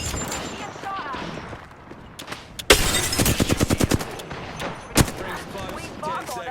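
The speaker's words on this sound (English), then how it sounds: "Being shot at." Gunfire in Apex Legends: a sudden dense burst of rapid automatic shots, loud and close, followed by a few more cracks and a single sharp shot, with game sounds around them.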